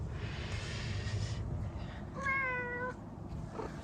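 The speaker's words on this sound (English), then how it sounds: "Well, here we have Jin and Gambit meowing in the background." A Ragdoll cat meows once, a clear, drawn-out call in the background over a steady low hum, with a fainter sound just after it.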